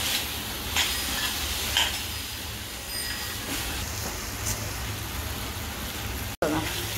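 Chicken liver sautéed in a pan over medium gas, a low continuous sizzle with occasional scraping stir strokes close by, then a sudden brief cut near the end.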